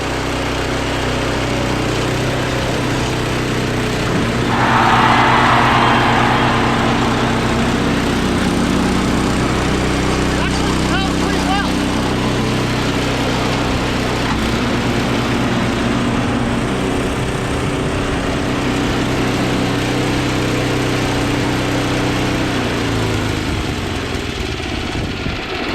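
A Yardman 8HP Tecumseh Snow King 26-inch snowblower engine runs steadily and loudly up close for the whole stretch, a constant droning hum with a brief surge early on and no talk.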